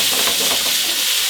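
Meatballs and bacon searing in a hot pan for homemade deluxe poutine, a loud, dense, steady sizzle close up with no talk.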